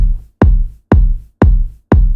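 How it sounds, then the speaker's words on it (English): Five isolated kick drum hits from music production software, each a loud, boomy low thump with a long decaying tail, evenly spaced about half a second apart with silence between. "So this is what this kick sounds like."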